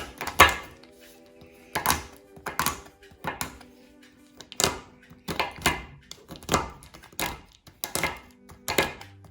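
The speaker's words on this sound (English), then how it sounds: "100 grams of a chocolate block, which we're going to chop up" A knife chops 100 grams of a chocolate block into chunks: about a dozen firm, close knocks on a board, coming in uneven bursts with short pauses, and no voices.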